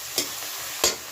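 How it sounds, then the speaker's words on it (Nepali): Meat and onions fry in a pan, with two sharp scraping stirs cutting through a steady close sizzle. "राम्रोसँग भुटिनुपर्छ, त्यसपछि मात्र मासु राम्रोसँग हुन्छ के"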